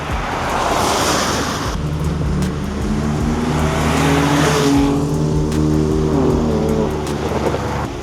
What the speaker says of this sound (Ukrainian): сама голосна машина на сьогоднішньому івенті